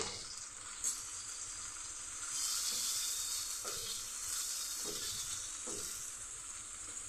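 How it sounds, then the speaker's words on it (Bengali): Ginger-garlic paste sizzles steadily in a pan, a soft, continuous hiss of frying with occasional stirring scrapes. It is close and fairly quiet, and no one speaks. "অল্প করে ভেজে নেব"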